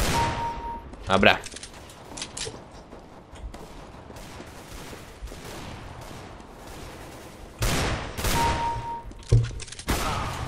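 Two Desert Eagle pistol shots in Counter-Strike: Global Offensive, sharp loud bursts standing out from a steady game backdrop, with a short spoken word between them.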